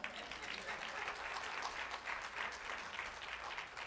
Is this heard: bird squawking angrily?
no